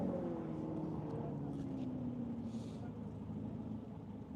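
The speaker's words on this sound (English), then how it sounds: "Doesn't quite have the volume turned up on the exhaust." An autocross car at Grissom AFB pulls away off the line, its fairly quiet exhaust giving a steady muffled drone that slowly falls in pitch as it moves off into the distance.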